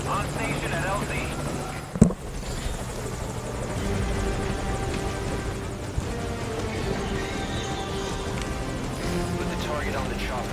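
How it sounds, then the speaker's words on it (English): Helicopter in the video game Metal Gear Solid V: Ground Zeroes, a steady rotor drone filling the whole span with one sharp knock near the start, while in-game voices speak over it. "Put the target on the chopper."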